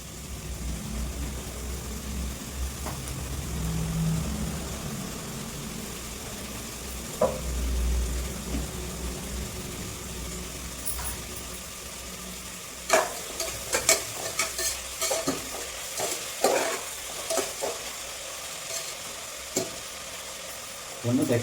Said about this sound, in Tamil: இப்போது வெங்காயம் சீக்கிரம் வதங்கிறதுக்காக நான் உப்பு கொஞ்சம் சேர்த்துக்கிறேன்